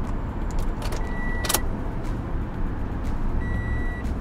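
Ignition of an Isuzu, Hino or Fuso truck switched on with jangling keys, followed by chiming warning beeps over a steady low engine rumble, close by, no voices.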